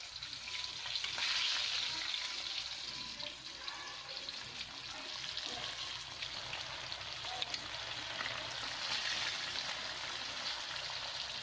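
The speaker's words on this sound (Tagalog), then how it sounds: "Prito tayo ng isda." Fish frying in hot oil gives a steady, close crackling sizzle that runs throughout, with light stirring or scraping in the pan.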